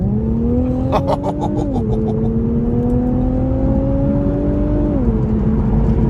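A 2018 Infiniti Q50 Red Sport 400 with a twin-turbo engine pulls hard from inside the cabin, its engine note rising in pitch through a gear, dropping at the shift, climbing steadily again and dropping at a second shift near the end.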